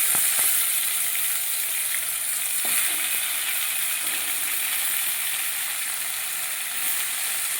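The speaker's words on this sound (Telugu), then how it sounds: "ఇప్పుడు ఇవన్నీ వేయించుకున్నాక టమాటా వేసుకోవాలండి." Chopped tomatoes frying in a pan for tomato chutney, a dense, continuous loud sizzle with occasional faint spoon clicks, close and steady throughout.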